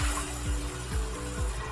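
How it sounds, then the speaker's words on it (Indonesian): A toilet flushing after WD-40 is sprayed into the bowl, heard as a steady rush of running water with low gurgling pulses recurring about every half second. "Semprotkan WD-40 ke dalam toilet dan siram."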